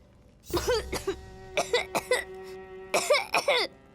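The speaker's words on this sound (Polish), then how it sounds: "Spokojnie, to tylko zwyczajny kaszel" A cartoon character coughs in three separate fits over about four seconds, each a cluster of rough, voiced hacking bursts, close and clear with nothing else audible.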